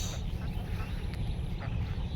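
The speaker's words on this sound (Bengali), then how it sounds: "এখন হাঁসগুলো ডাকতেছে" Ducks quack at a farm pond raising ducks and fish, a few scattered calls over a steady low outdoor rumble and wind.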